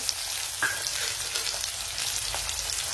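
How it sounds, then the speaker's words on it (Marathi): Garlic and onion with cumin sautéing in oil for okra bhaji, a steady close sizzle with a few faint stirring clinks, continuous and fairly loud, no speech. "लसूण, कांदा। आता याला आधी आपण परतून घेऊ चांगलं"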